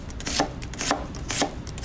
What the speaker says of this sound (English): following the vein structure of the onion, we're going to start slicing through